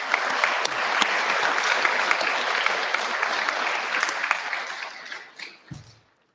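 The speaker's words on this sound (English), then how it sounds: "So a round of applause for our teachers." Crowd applause for teachers at the 2022 Flint Regional junior science and engineering fair, sustained steady clapping from a large audience that gradually fades out over several seconds.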